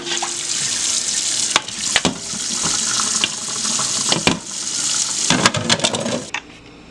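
Liquid pours and splashes steadily from a container of catfish, a continuous watery gush with a few sharper splashes, tapering off abruptly near the end.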